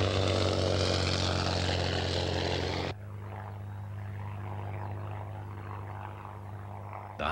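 A Hawker Hind biplane from the 1930s RAF has its piston engine and propeller droning loudly. After about three seconds the sound drops to a softer, steadier hum, and a fresh surge comes at the very end.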